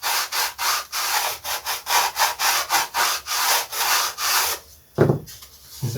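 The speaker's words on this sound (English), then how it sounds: "we'll just sand that down to match" Sandpaper rubs wood on a scratch-built pre-WW1 model aircraft in quick, even back-and-forth strokes, about a dozen close scrapes in a row, then a single dull knock.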